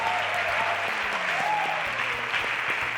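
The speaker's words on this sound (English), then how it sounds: "Another round of applause for our princess" Studio audience applauding a princess on a cooking show, steady dense clapping throughout with a faint tone in the background.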